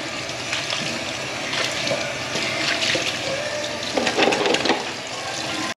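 A tap runs at a truck stop while someone washes up, a steady rushing splash of water that grows busier and more splattery near the end before cutting off abruptly.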